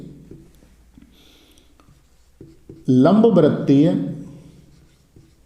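Faint scratches of writing on a board during a physics lesson on electric flux, a few soft strokes, followed by a voice speaking loudly over them.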